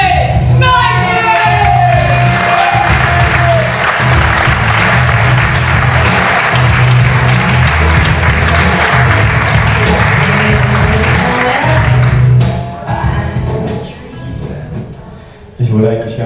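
Poetry slam audience loudly applauding and cheering a performer onto the stage, with whoops and shouts and music over the clapping before it drops away and a voice begins speaking.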